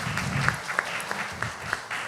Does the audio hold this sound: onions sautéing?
no